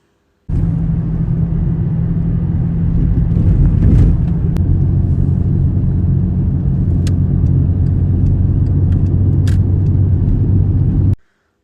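Steady low engine rumble and road noise from inside a car driving on a road, loud and continuous for about eleven seconds, with a few faint clicks and no talking.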